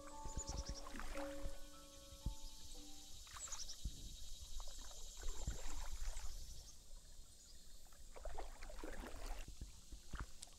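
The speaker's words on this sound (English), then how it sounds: "What is the sound? Somebody taking a bath? Oh no, it's the boat." A boat moving through water: sloshing, trickling water with swishing surges, moderately close and continuous, with a few tonal chimes at the start and no talk.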